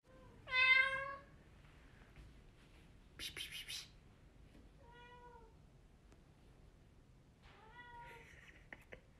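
A cat meows several times, each call short and fairly faint, separated by quiet pauses with a soft scratchy rustle between them in a quiet room.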